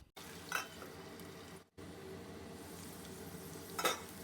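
Ivy gourd (tindora) is shallow-frying slowly in a modest amount of oil for a curry. A soft, steady sizzle plays at a low level, with a brief gap and two short louder stirring rustles.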